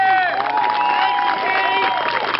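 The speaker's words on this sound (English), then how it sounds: "So a round of applause for Steve." A crowd at a rally at the State Capitol cheers for Steve Maguire, a loud wash of whooping, shouting voices and some clapping that stays constant throughout.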